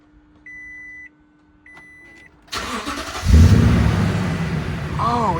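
A car engine starting after an oil change, preceded by dashboard warning beeps, then cranking and catching into a loud, close, steady idle with a slight rise in revs.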